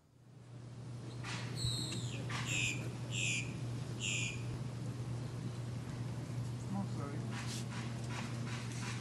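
A dog gives a few short yelping barks and whimpers, fairly close, over a steady low hum, with people talking around it.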